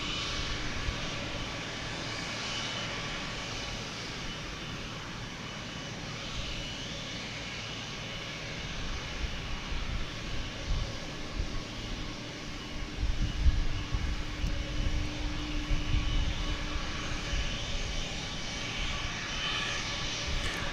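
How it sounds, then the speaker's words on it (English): A Boeing 787 Dreamliner jet at DFW Airport gives off a continuous broadband engine roar that swells somewhat louder and rougher in the second half, heard alone with no voices. "Let's get an up-close look at this here Dreamliner."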